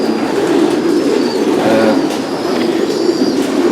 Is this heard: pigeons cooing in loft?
yes